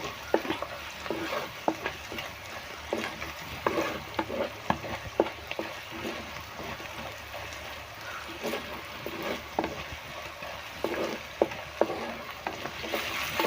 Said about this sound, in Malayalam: സവാളയും പച്ചമുളകും ഇഞ്ചി വേപ്പിലൊക്കെ നന്നായിട്ടൊന്ന് വാടിയിട്ടുണ്ട്